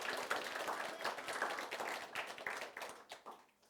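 A church congregation claps to welcome visitors at a Sunday worship service. The clapping is dense and steady, fairly quiet and heard from a distance, and it thins out and fades over the last second.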